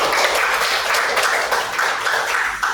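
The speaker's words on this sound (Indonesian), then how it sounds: "Beri tepuk tangan buat kita semua" Classroom group giving a round of applause during a teacher training session, a short burst of dense clapping from many hands, fairly close and continuous.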